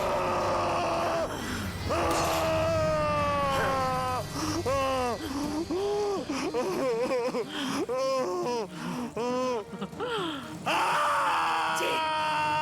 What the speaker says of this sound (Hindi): चीख, और जोर से चीख।